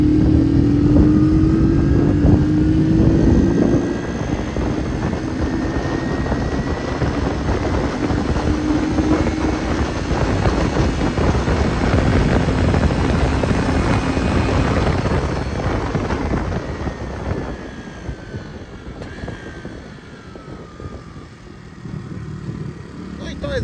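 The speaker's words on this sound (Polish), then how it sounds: "I on teraz na czwórce, zobaczcie, jak przyspiesza fajnie." A derestricted moped accelerates in fourth gear, its small engine droning loudly and rising in pitch up close over a steady roar of wind and road noise, fading slightly toward the end.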